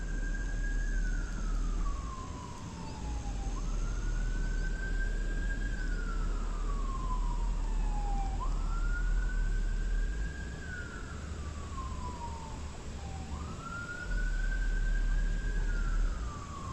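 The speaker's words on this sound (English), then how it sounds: "wherever that ambulance is going" An ambulance siren wails in slow rising-and-falling sweeps, four cycles heard steadily at a moderate distance over a constant low rumble near a fishing spot.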